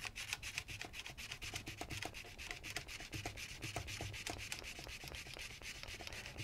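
A nylon brush scrubs back and forth inside a rimfire rifle barrel during cleaning, giving a steady, fast rhythm of soft, close, raspy strokes that stays fairly quiet and continuous, with no talking.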